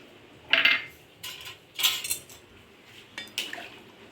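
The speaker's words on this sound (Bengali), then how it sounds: "এবার চিনি আর গরম মশলাটা ভালো করে মিশিয়ে দেব।" A spatula works chicken dak bungalow in a large kadai as sugar and garam masala are mixed in. Four separate faint metallic clinks and scrapes come at irregular intervals with quiet pauses between them.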